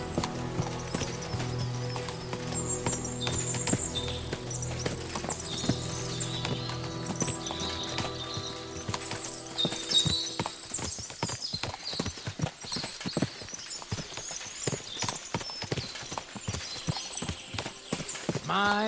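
Steady clip-clop of horse hooves on a hard surface in the video game Kingdom Come: Deliverance II, rhythmic and close, with background music fading as the hoofbeats continue.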